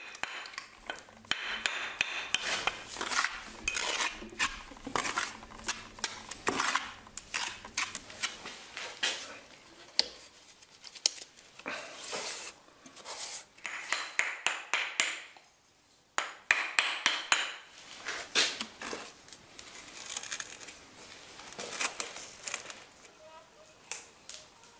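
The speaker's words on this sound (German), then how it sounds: "Für die oberste Reihe müssen die Kanten der Schamottsteine noch einmal speziell angepasst werden." Fireclay bricks for the top row of a tiled stove have their edges trimmed and fitted, giving close, irregular bursts of scraping, rasping and chopping strokes with short pauses between them.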